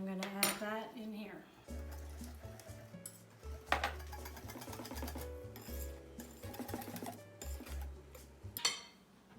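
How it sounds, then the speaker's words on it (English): A whisk or fork beating runny cake batter in a bowl makes quick, rhythmic metallic clinks and scrapes, close and fairly quiet. "Use a whisk if you've got it, otherwise a fork is just fine"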